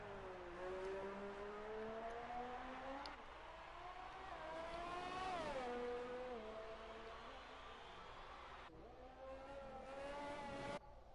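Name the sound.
race car engine revving on a lap in F2 racing video game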